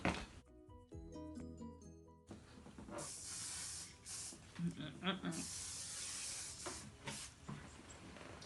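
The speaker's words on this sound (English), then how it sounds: "a little spray." Hair spray hisses in bursts over background music, fairly close, with a few short pauses between sprays, sprayed onto crochet braids.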